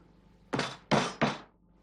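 A scone cutter is tapped sharply down through thick dough three times, giving a quick run of close, dull thunks with a brief pause before the last two.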